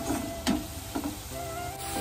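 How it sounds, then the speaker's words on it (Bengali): Potatoes fry in hot oil with dried chillies, a continuous sizzle broken by a few regular stirring scrapes of a spatula in the pan. "দেখো আলুটা কিন্তু আমার ভাজা হয়ে গেছে।"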